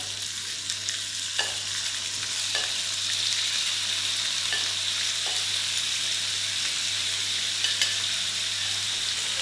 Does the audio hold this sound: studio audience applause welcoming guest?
no